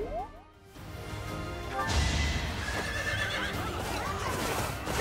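A horse whinnying in the video game Fire Emblem: Three Houses: a loud, close neigh rising over a bright rush of clattering battle effects and swooshes, with no talk.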